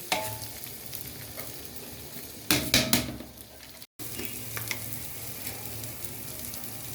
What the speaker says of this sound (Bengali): প্রথমে একটা প্যানে খুব ভালো করে ঘি গরম করে নিয়েছি, দিয়ে দিচ্ছি পোলাও চাল